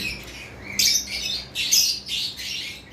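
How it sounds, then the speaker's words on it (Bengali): Conure parrots, a pair held for sale by a bird dealer, give three or four harsh, shrill squawks in quick bursts, close and loud over a faint steady background hum. "এই যে এখানে আরেকটা পেয়ার হাইপার কুনুর রয়েছে, দেখেন"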